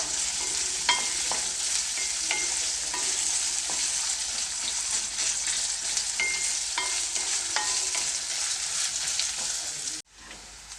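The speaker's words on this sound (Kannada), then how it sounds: "ಈರುಳ್ಳಿ ಮತ್ತು ಮಸಾಲೆ ಒಂದು ಸ್ವಲ್ಪ ಎಣ್ಣೆಯಲ್ಲಿ ಚೆನ್ನಾಗಿ ಫ್ರೈ ಆಗಬೇಕು" Onion with cinnamon and star anise frying in a little oil, a steady close sizzle with occasional spatters and stirring scrapes, alone, cutting off abruptly near the end.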